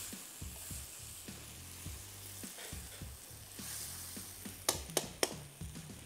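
Turnips stirred into a simmering curry in a pot: rhythmic scraping and wet stirring strokes over a steady bubbling sizzle, with a few sharp metallic clinks near the end.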